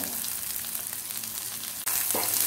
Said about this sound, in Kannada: ಸ್ವಲ್ಪ ಶುಂಠಿ, ಕರಿಬೇವು, ಕೆಂಪು ಮೆಣಸು ಹಾಕಿ ಇದನ್ನು ಫ್ರೈ ಮಾಡ್ಕೊಳ್ಬೇಕು.